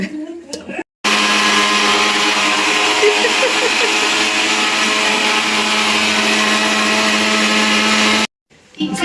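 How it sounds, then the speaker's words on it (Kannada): A mixer grinder grinds salted batter for patrode at a steady, loud, continuous whine for about seven seconds, cutting in abruptly and stopping just as suddenly, with faint background sounds before and after. "ಇನ್ನು ಗ್ರೈಂಡ್ ಮಾಡ್ತಾರೆ ವಾಪಸ್"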